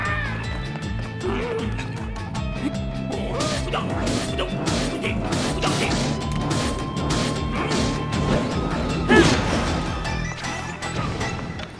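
A physics contraption crashing and tumbling over in The Legend of Zelda: Tears of the Kingdom, with repeated clattering impacts and a louder smash near the end over steady game music and ambience.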